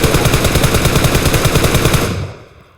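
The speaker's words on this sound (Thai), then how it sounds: "จังหวะที่เราโดนลุมนะครับเลือดเหลือน้อยฮะเราดรอปช็อตยิงได้เลยนะครับ" Automatic gunfire in PUBG Mobile: a loud, close, rapid burst of shots at a steady rhythm for about two seconds, then cutting off and fading out, with no talking.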